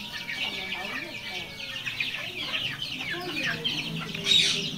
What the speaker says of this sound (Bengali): 20-21 পিস লেয়ার মুরগি রয়েছে